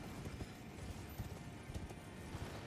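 Horse hooves clip-clop steadily while riding in Elden Ring during a frost-themed run, the rhythmic footfalls loud and close over a continuous game ambience.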